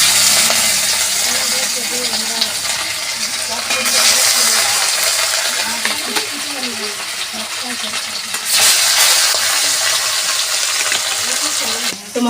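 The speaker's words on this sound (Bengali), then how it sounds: "কড়াই গরম হয়ে গেছে, তেল গরম হয়ে গেছে, মাছগুলো একের পর দিয়ে দিই।" Fish go one by one into hot refined oil in a heated wok. A loud, continuous broadband sizzle and crackle holds close and steady throughout, with brief surges as pieces are added.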